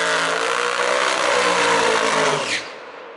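A drag racing car roars loud and close on a test-and-tune run, a sustained high-revving engine that climbs in pitch before cutting off abruptly near the end.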